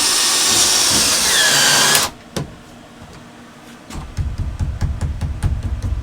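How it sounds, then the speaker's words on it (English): Power drill driving into the frame of a Ford Transit van during a DIY framing build: a loud, steady whining drill run lasting about two seconds, then stopping abruptly, followed by quieter knocks and handling noise. "Drill it, babe."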